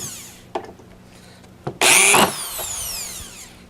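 A drill drives 1.5-inch deck screws into the wood of a cat post: a couple of light knocks, then one short, loud whirring burst close by that quickly fades.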